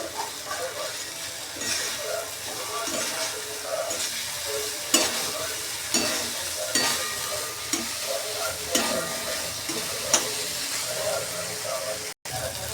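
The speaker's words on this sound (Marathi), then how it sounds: "चांगले आपले हरभरे मिश्रणात परतले आहे" Green chickpea mixture stir-fried in oil in a pan, a steady close sizzle with repeated spatula scrapes and stirring clatters spaced every second or so; quiet talk underneath.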